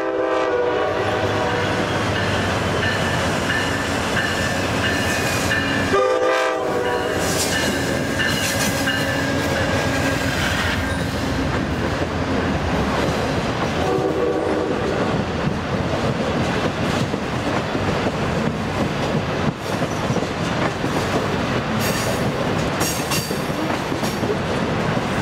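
A Capital Corridor passenger train pulls out of Sacramento Valley station, its loud continuous rumble and wheel noise steady throughout, with horn blasts sounding near the start and again later.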